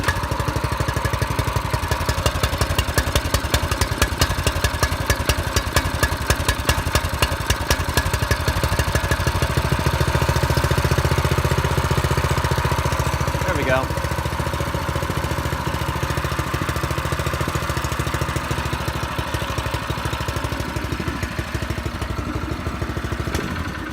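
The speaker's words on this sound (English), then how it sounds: "you can still hear the engine anyway" A small gasoline engine on a drift trike runs with its chain removed, giving a steady, close, unbroken chugging idle that carries through the whole stretch with no talking.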